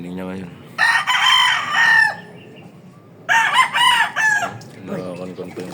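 Roosters crow repeatedly on a gamefowl farm in the morning, loud drawn-out calls in two or three bursts, with clucking and low background noise between them.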